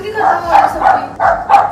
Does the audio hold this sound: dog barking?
yes